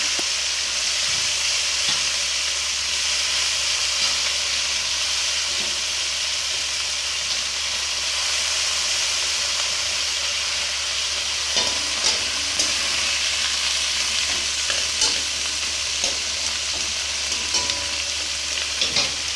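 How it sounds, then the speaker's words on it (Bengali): Onions browning in hot oil in a home kitchen, cooked ahead of adding five-spice tempering for a pomfret and poppy-seed dish: a steady, close sizzle with occasional stirring scrapes and clinks, no voices. "পেঁয়াজগুলো লাল লাল করে ভেজে ফেলবো, এটা ব্রাউনিশ হবে।"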